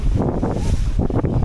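Outdoor wind buffets the microphone in steady low rumbling gusts, loud and continuous across the whole moment, with rustling texture and no voices.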